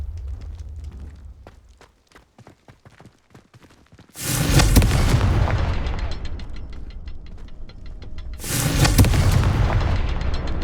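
Explosions from the Confringo spell boom in Hogwarts Legacy on PS5, loud and close. Two heavy blasts sound seconds apart, each rumbling into a long tail, and a run of quieter crackles comes first.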